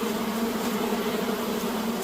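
Honeybees swarm in a continuous, steady buzz at an opened beehive, close and fairly loud, with no voices over it.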